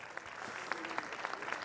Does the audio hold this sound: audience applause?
yes